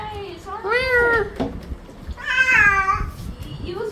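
A Persian cat meows twice, long drawn-out and loud, during a bath, with background noise between the cries.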